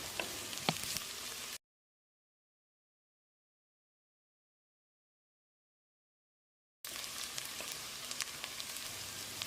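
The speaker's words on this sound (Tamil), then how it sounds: "1 நிமிஷம் இதை நல்லா வதக்கிடலாம்" Soft crackling sizzle of chopped carrots and vegetables sautéing in a pan, broken by a long stretch of silence before the sizzling returns.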